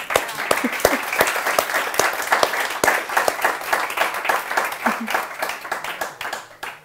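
A live audience applauds for a guest named Giacomo at an evening literary event, dense clapping from many people with distinct close hand claps sounding throughout, alongside some talking, before the applause tapers off.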